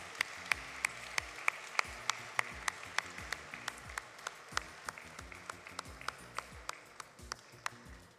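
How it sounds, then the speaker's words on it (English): Audience applause at a business forum gala dinner, steady clapping from a crowd with a few sharp, distinct claps standing out, held at moderate distance. "A round of applause again, ladies and gentlemen"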